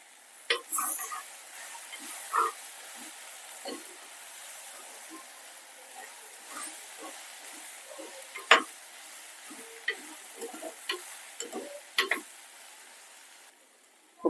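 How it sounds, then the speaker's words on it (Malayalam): Ladyfinger okra stir-fry being turned in a steel pan, sparse metallic scrapes and clinks of the spoon against the pan over a faint, quiet sizzle. "നമുക്കൊന്ന് ഇളക്കി കൊടുക്കാം"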